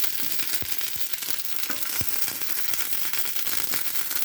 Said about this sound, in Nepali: यसरी मैले मोमोलाई फर्काई फ्राई